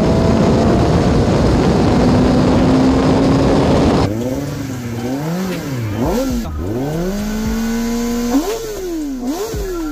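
A Kawasaki ZX-10R sportbike on the move: loud rushing engine and wind roar at first, then the engine clearly revs up and down in rising and falling swoops before settling into a steady drone, with no talking.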